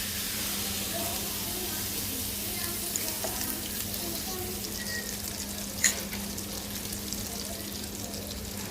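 Onions fry in oil in a wok with a soft, steady sizzling hiss over a low hum, and a single sharp click comes just after the midpoint.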